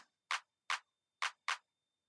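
A sampled clap, the "05 clap" one-shot from a praise loop pack, plays four times: short, crisp, dry hits with uneven gaps and silence between them.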